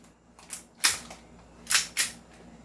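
Novritsch SSP5 airsoft pistol firing several sharp, snappy shots at close range, with uneven spacing between pops against a quiet background.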